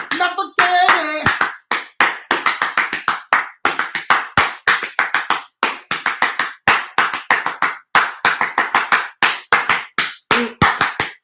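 Rhythmic hand clapping in steady bursts, loud and close, with a few sung or shouted vocal sounds briefly at the start and again near the end.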